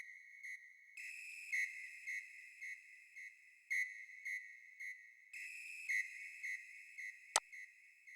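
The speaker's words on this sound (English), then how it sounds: "So this is, I think, a whistle or a vox sound." A synthetic whistle tone in an Afrobeat beat plays a repeating rhythmic pattern in short pulses and sustained notes, ending with a sharp click.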